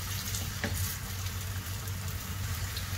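Afghani omelette mixture with salt sautéing in a pan over high flame, a steady dense sizzle and crackle of frying that holds evenly and continuously throughout, close up and alone with no talking heard.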